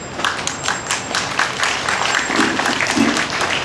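Applause from the crowd at an outdoor memorial rally for COVID vaccine victims, a dense steady patter of many hands clapping close by, continuing throughout with no voices.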